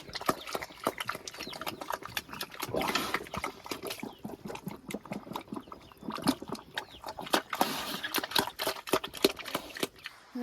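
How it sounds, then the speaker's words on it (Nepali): Pigs in a pen eat fodder, giving rapid wet slurping, chomping and snuffling noises that come close and irregular, with occasional louder bursts throughout. "यो चाहिँ मेरो सुँगुरहरू हो"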